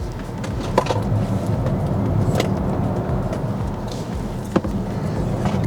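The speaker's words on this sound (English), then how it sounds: "we're just getting ready to take the EV6 GT out on the track here in Sweden" Kia EV6 GT electric performance car in matte grey, on 21-inch wheels with Michelin tyres, driving on a race track in Sweden: steady broadband road and tyre rumble with wind noise, punctuated by a couple of sharp knocks, no talk.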